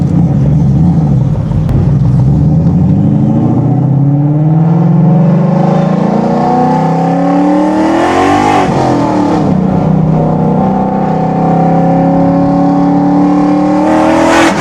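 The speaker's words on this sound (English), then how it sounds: "this car is so freaking loud" A loud car engine revs and roars up close on a drive to an alignment shop, its pitch rising and falling through several throttle swells with no pauses.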